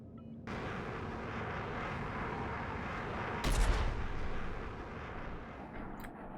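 Ship cannon fire in Star Citizen: a loud rumbling blast surges in over a steady roaring engine-like wash, swelling briefly around the middle before settling back into the continuous drone.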